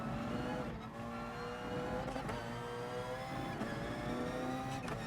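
Porsche race car in Gran Turismo Sport, a steady engine drone with gear shifts and revs rising and falling, loud and continuous with no talk.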